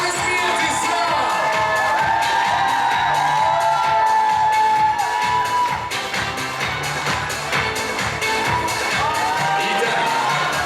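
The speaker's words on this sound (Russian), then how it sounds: "Громкие аплодисменты, слава!" Loud crowd cheering and whooping fill a university Miss and Mister pageant award ceremony, a dense, sustained roar of voices over bright music-like tones that holds steady throughout.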